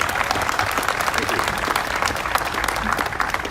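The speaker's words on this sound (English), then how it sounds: "Everyone, round of applause for them." A crowd claps at the ribbon cutting and grand opening of the John C. Dunham Aurora Arts Center. The applause is loud and sustained, with dense overlapping claps from start to finish.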